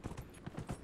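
Horse hooves clip-clopping in the video game Dragon Age Inquisition, a quick run of soft, evenly paced hoof strikes, faint and without voices.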